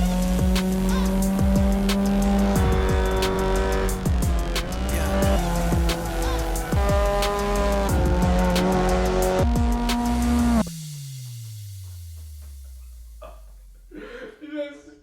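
Racing car engine in a sim racing game played with a wheel, revving through gears lap after lap with rising and falling harmonic whines, then a long descending engine note as it slows, with faint tire squeal near the end.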